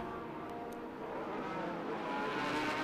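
Lola T9720 race cars rounding Turn 7 at Sonoma Raceway during a SpeedTour event, a steady engine roar that swells gradually as the group approaches, with no voices.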